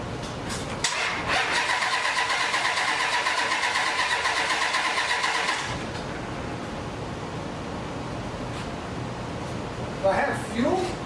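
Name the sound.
engine cranking on old International pickup with Hemi Durango chassis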